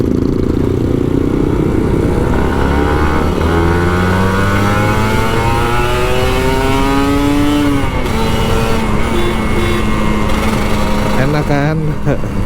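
A Kawasaki Ninja RR 150 two-stroke motorcycle revs on a public road, its engine climbing through rising gear pulls with a shift partway through, loud and close, with talk briefly at the end.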